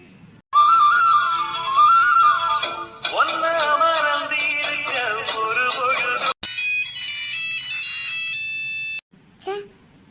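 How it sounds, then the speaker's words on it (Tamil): A phone ringtone for an incoming call plays loud and continuously as a bright tonal melody, briefly cut out and resuming with a new pattern, then stopping abruptly; a rider is cycling while listening to music. "யாரோ ஃபோன் பண்ணுறாங்களே"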